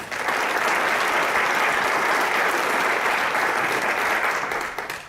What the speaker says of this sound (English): So big round of applause for Mr. Uyeda